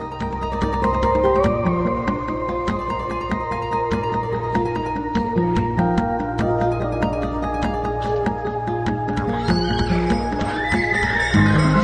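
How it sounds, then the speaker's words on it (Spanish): Long-maned Cartujano horses in Jerez neigh and whinny repeatedly over a steady clip-clop of hooves, loud and close, alongside a layered musical backdrop. "también de los caballos cartujanos de largas crines que nunca pierden el compás"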